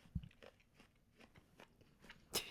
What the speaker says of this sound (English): Just hear the chews.